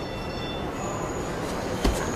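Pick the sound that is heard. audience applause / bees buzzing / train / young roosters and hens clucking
train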